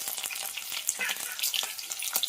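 Green chillies and onion dropped into hot oil with cumin seeds crackle and spit in a close, lively sizzle, with scattered sharp pops over a steady frying hiss.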